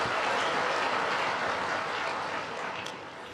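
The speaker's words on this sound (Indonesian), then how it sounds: "tepuk tangan untuk berita baik boleh" Audience applause at a presidential address at the palace, a dense continuous wash of clapping from a large crowd, steady and loud throughout before tapering slightly toward the end.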